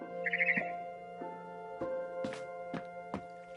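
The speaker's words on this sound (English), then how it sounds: "Then I heard chirping outside my window." A barn swallow chirps outside a window in the game What Remains of Edith Finch: a quick trilled twitter, then several sharp separate chirps and calls spaced out over a steady soft background tone.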